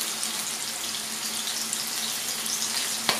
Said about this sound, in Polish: Teraz muszę z nich odlać wodę.